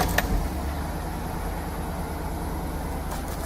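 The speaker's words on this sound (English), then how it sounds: "start the car" A 2008 Chevy Suburban 1500 engine idles in a steady, continuous low rumble with no talk. A brief bump near the start may be the tail of ignition.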